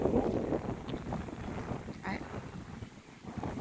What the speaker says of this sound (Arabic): او صوت الموجه اهي، بس على خفيف يعني هتحسي ايه، الموجه هاديه جدا